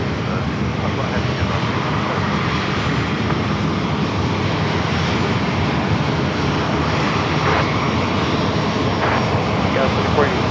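An Airbus A350 heavy jet takes off from runway 27 at San Diego airport, its engines holding a loud, steady broadband roar throughout, with radio chatter running underneath.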